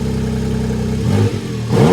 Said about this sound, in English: tapping that exhaust button there is going to open up those valves and give you just a louder sound